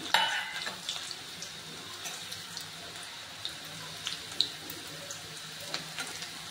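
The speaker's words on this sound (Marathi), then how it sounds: "आता तेल गरम झाले आहे, आपण तेलामध्ये लसूण घालून घेऊया।" Garlic frying in hot oil in a wok, a steady soft sizzle with occasional light stirring taps, fairly quiet and close, with no voices.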